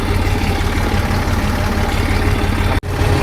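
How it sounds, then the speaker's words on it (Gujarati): A tractor engine runs steadily at a low, heavy idle-like drone during a groundnut harvest in the field, loud and continuous, broken by one brief sharp dropout near the end. "દસ આરપીએમ ઉપર ચાલે છે ટ્રેક્ટર"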